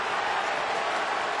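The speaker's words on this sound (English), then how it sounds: "Crowd giving Brendan the welcome." Crowd at an AFL match between the Sydney Swans and Brisbane Lions greeting Brendan Fevola, a steady broad roar filling the stadium with no pauses.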